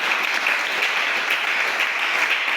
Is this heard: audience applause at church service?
yes